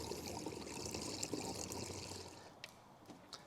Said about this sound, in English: all the coolant that drained out, I'm now just going to put back in